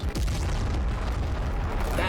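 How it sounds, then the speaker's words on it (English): Twin volcano cannons firing in a Horus Heresy cinematic battle scene, heavy booming blasts with deep rumbling low end and a crackling, explosive wash that stays loud throughout. "Two volcano cannons just firing"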